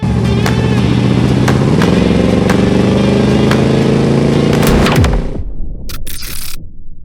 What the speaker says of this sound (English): 1977 Chevrolet Blazer, Chalet Edition, 350, automatic, AC. Let's take it for a test drive.